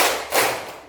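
A classroom group claps in unison on a teacher's count in an Indonesian school lesson, with two close, sharp, loud clap bursts about a third of a second apart.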